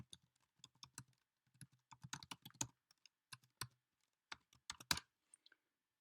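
A password being typed on a computer keyboard: quiet, close keystrokes in irregular bursts with brief pauses between them.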